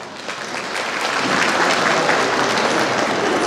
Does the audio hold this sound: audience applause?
yes